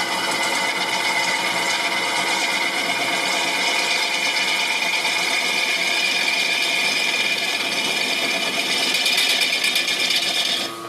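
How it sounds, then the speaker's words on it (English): Wood lathe turning tool taking a shear cut on spinning wood at a woodturners club meeting, a steady loud close hiss and whir of continuous cutting that runs without a break. "Take a shear cut, bring the handle, drop the handle down to my thigh, use that long edge to take the cleaning cut."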